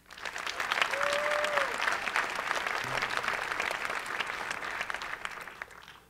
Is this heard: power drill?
no